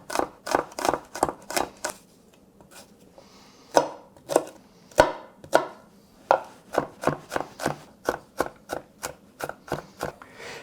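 Garlic chopped on a board for a smoked eggplant, tomato and egg dish, a steady run of crisp knife strikes in quick bursts with short pauses, close and clear with no talk.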